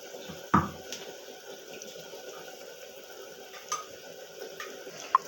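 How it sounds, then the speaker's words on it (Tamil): Tamarind extract is poured into a simmering arai keerai (amaranth spinach) kadaiyal, a quiet liquid pour with a soft splash near the start and faint wet clinks over a low kitchen background. "அந்த புளி கரைசலை இதில் ஊற்றி ஒரு கொதி வந்தோடனே நம்ம இறக்கிடலாம்."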